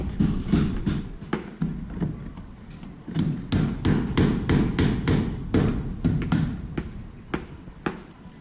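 A roofer pre-punches rivet holes in stainless steel roofing on a house under construction in the Philippines. Sharp metallic taps and thuds ring out in irregular bursts throughout, fairly close, over a low background rumble.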